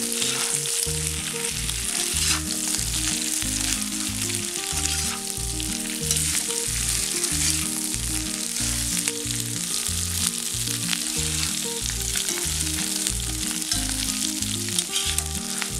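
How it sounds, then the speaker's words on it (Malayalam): Cooked crab being stirred into onions frying in a pan, a loud constant sizzle with a rhythmic push-and-scrape pattern from the stirring, no speech. "ഇതിലേക്ക് വേവിച്ച് വെച്ചിരിക്കുന്ന ഞണ്ട് ചേർക്കാം. ഇതെല്ലാം കൂടെ ഒന്ന് യോജിപ്പിക്കാം."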